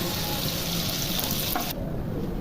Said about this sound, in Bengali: এবার কেটে রাখা ক্যাপসিকামগুলো ভেজে নেব।